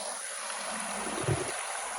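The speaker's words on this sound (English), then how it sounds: "You can hear the water running right now." Water runs steadily over rocks in a large backyard pondless waterfall, a continuous broadband rush at moderate distance with no talking.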